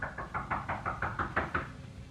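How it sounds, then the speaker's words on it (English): A steady series of about nine knocks on a door, evenly spaced and moderately loud, over a low background rumble. "the audio of my lovely assistant knocking while I walk"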